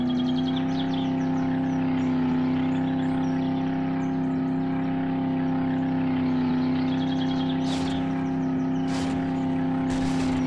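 A car engine in the survival video game 7 Days to Die drones steadily and loudly throughout while driving, with faint chirps near the end and no talking.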